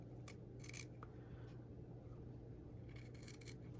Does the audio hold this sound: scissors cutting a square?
yes